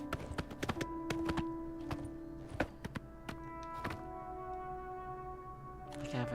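Horse hooves clip-clop in a steady trotting rhythm as an orc assassin rides during fast travel in Oblivion, the beats mixed with dull thunks over a sustained musical backdrop.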